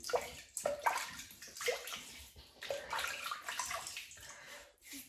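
Water splashes in irregular bursts as a face is wetted by hand for shaving with a double-edge razor, close and fairly quiet, with drips and sloshes between the splashes.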